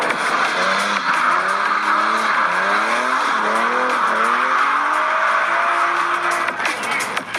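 Cartoon race cars speeding and skidding, a dense roar of engines with sweeping, wavering tire squeals rising and falling throughout, loud and continuous with no voices.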